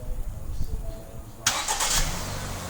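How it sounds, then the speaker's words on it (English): Quiet low rumbling gives way to a Ford Escape engine, started by remote start, cranking and catching, then settling into a steady idle. "Now we're going to go ahead and we're going to start the engine."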